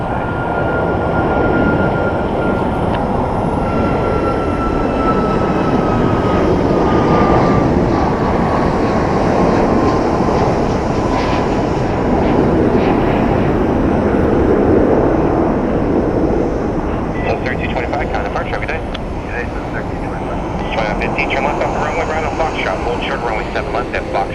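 Jet airliners arriving and departing on a runway at Phoenix Sky Harbor Airport, heard as a loud, steady engine roar that swells and holds throughout, with a rising whine near the end.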